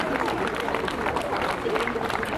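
Audience applause at a wedding ceremony of giant processional figures in Saint-Omer, a steady outdoor patter of clapping from a crowd under a voice on a loudspeaker.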